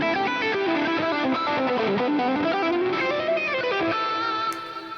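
An electric guitar plays a fusion lead with heavy gain, delay and reverb: a fluid, sustained melodic line at steady loudness that tails off at the end, with no talking.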